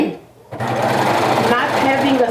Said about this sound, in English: you can do exactly the same thing on your sewing machine with a twin needle or a zigzag stitch